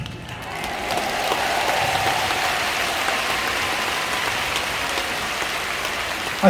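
A large church congregation at a Christian rally for unification claps in a dense, sustained wash of applause, steady and fairly loud throughout, like heavy rain.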